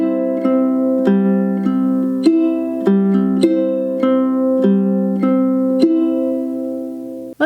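Ukulele fingerpicking pattern for a song played at full tempo: a steady, even run of bright plucked notes with ringing chord tones, close and clear with no talking.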